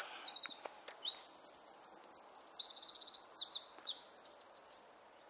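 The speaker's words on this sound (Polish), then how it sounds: "Słyszycie sami śpiew ptaków." Small birds sing by the water at a quiet fishing spot, with rapid, high, overlapping chirps and trills that run steadily and fairly close with no talking.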